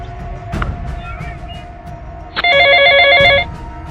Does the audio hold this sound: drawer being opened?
no